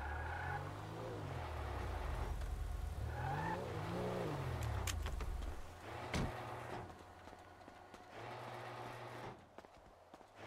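Car engine in a GTA-style role-play game, revving hard and rising and falling as the vehicle is driven inside a mechanic's garage, with a sharp slam-like knock midway and fading rumble afterward.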